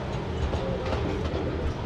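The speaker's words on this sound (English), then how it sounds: "We're on the San Antonio Zoo train." The San Antonio Zoo's park train rolls along through the old city park with a steady, muffled rumble and faint rhythmic clatter heard from on board.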